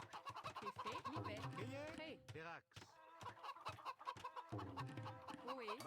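Chickens in Age of Empires 2 cluck and squawk repeatedly, rather quiet and mixed with game sound effects, with a person talking over them.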